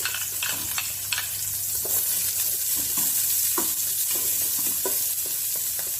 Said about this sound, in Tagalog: Tapos lagay natin yung ating sibuyas at onion para sabay.